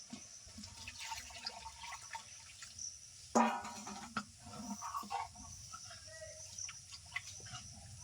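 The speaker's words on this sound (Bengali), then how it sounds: "পরিমাণ মতো জল দিয়ে দেবো" Water trickles and splashes into mashed red lentil dal with pumpkin flowers in a village kitchen, a soft, uneven liquid wash with one sharper splash midway and faint clatter behind.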